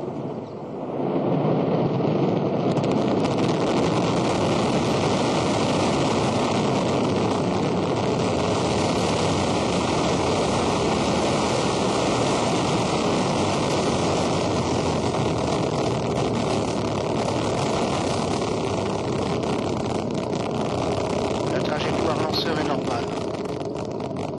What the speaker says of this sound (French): Allumage des EAP et décollage.